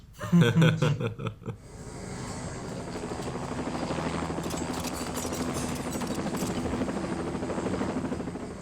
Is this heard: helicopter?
yes